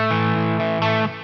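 An electric guitar played through a Neunaber Expanse pedal set to reverb rings out in sustained, distorted chords, close and loud, with a couple of chord changes and a washy tail.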